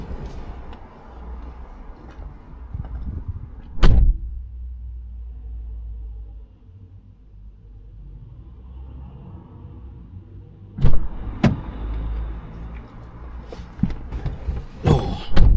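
A Peugeot car drives along, its low engine and road rumble steady inside the cabin, broken by a few loud knocks and thumps near the start and toward the end.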